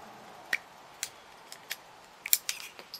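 Small metallic clicks and ticks as a knife pushes nail gun blanks out of a revolver cylinder, a sparse series of faint, sharp taps that bunch closer together near the end.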